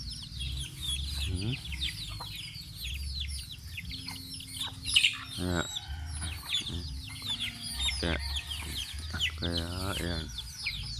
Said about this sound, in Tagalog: Dami ng manok ko oh